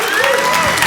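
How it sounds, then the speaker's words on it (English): A short burst of audience applause and cheering as motivational speaker Sean Stephenson is brought up on stage, dense and loud crowd noise with a few raised voices throughout. "Everyone, let's give him a round of applause."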